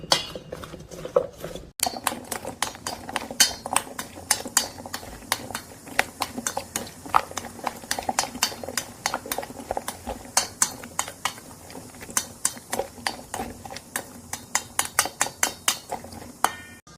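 Big country squash pieces are tossed with salted shrimp in a bowl, giving a steady run of sharp spoon clinks and scrapes against the bowl that are close and fairly loud, with no talking.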